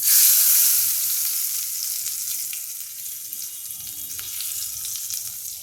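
A loud burst of sizzling erupts as hot oil tempering with red chili is poured onto dal, then settles into a steady, softer crackling fizz that continues without a break.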